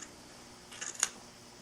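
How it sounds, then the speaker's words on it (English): A single soft snip of sharp scissors cutting through a channel in layered chenille quilt fabric, close and quiet against a faint background hiss. "I'm going to make a snip in each one of these channels before I apply the binding"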